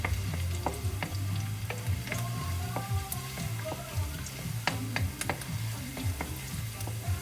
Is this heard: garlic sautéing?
yes